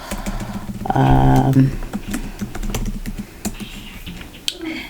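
Computer keyboard typing, a quick series of close clicks and taps following a short burst of mechanical noise, with no speech.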